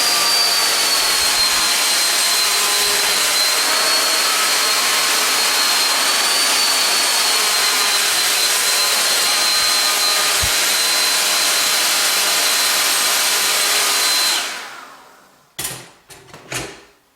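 A hair dryer blows hair straight on a weave with a loud, steady roar for about fourteen seconds, then cuts off, followed by a few sharp clicks and handling knocks.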